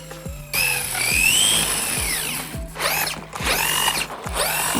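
A Traxxas Funco 2wd RC car drives on ice, its motor whining close and loud in rising and falling sweeps as it speeds up and slows repeatedly, with rhythmic knocks underneath.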